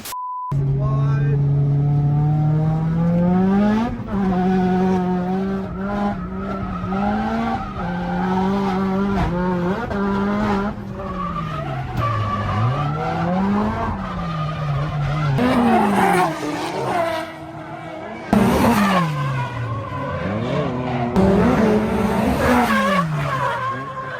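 On track, a Nissan S14 drifts with engine revs rising and falling in repeated swoops, tires squealing loudly through the corners, with brief gear-change dips and some talk mixed in.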